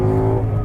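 A Ford Mustang's engine drones on a racetrack, a low steady tone close by and fairly loud for a brief moment, with no talking.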